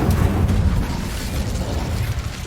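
Incendio fire spell cast in Hogwarts Legacy, a loud, dense burst of roaring, crackling flame that sustains for a couple of seconds, with no talk.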